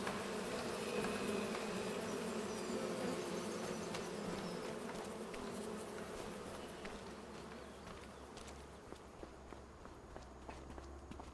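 Bees buzz in the Farming Simulator 25 video game, a dense, steady drone close by, with soft rhythmic footsteps crunching underneath as the buzzing gradually fades.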